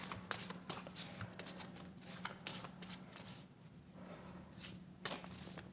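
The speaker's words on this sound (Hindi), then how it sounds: "Few more cards for my Libra." Tarot cards are shuffled by hand in a rapid series of soft riffling flutters and taps, close and fairly quiet, with no voice over them.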